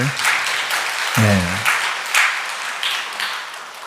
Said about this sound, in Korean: 저는 여러분들께 감사의 박수를 올려드리고 싶어요